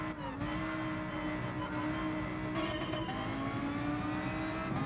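Race car engine in GT Sport holds a steady, loud mid-pitched drone with a slight pitch rise near the start, running continuously and alone.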